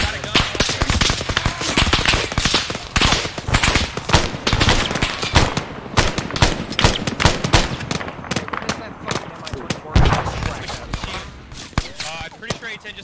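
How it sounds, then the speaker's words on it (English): An A-10 aircraft firing on an enemy in ArmA 3, dense continuous gunfire and heavy impacts rolling throughout, loud and chaotic with voices talking over it. "I'm pretty sure A10 just engaged his ass."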